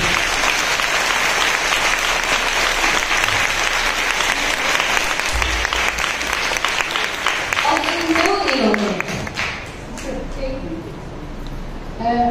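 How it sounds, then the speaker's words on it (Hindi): Enthusiastic audience applause at a religious gathering, dense clapping going on loudly for about eight seconds before thinning out, with a voice speaking as it fades. "इसलिए मेरे प्रभु के लिए जोरदार ताली बजाइए।"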